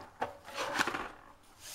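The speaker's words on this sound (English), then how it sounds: "To do this, I'm gonna go ahead and score it, at 5 1/2 inches." A folded card base of cardstock is scored, giving a short, close scratchy rub of a tool drawn along paper lasting about a second, quiet and alone without speech.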